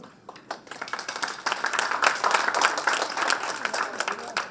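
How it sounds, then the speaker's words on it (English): Audience applause for the event organizers at a United Nations Commission on the Status of Women session, starting with scattered claps and building into full, steady clapping from the crowd. "Let's give a big applause to the organizers of the event."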